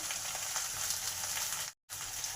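Okra (bhindi) sizzles steadily in a pan, a close, continuous hiss of frying that cuts out briefly near the end before resuming.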